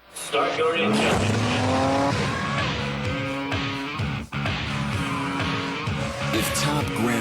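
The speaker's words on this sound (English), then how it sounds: "Start your engine." In a Mobil 1 motor oil advertisement, a race car engine revs hard and climbs through the gears, tires squealing, with steady loud roaring throughout and a brief dip midway.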